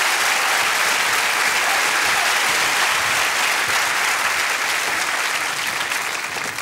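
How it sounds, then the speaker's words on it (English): Sustained audience applause fills a TV studio, dense and steady from a large crowd of clapping hands, tapering slightly at the end with no talk over it. "Let's give them a big round of applause"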